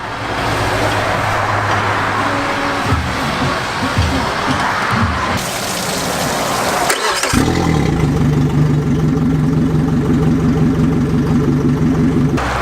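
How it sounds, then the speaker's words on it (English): A Yamaha F200XB outboard motor on flushing muffs cranks and catches about seven seconds in, then settles into a steady, loud running drone with a throbbing low rhythm, close by and without talk. "We're gonna hook up the muffs and fire this thing up and make sure we have no leaks"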